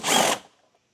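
A power drill spins out an 8mm tail light bolt in one short, loud whirring burst of about a third of a second, then cuts off and quickly fades.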